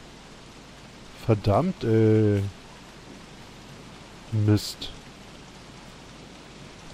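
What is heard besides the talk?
steady rain, video game Don't Starve Reign of Giants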